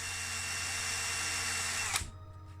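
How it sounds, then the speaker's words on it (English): A power drill spins a small die-cast toy car axle with a steady, high-pitched whine, then stops abruptly, leaving a brief winding-down rattle and quiet room tone. "I've just shoved into my drill the first axle"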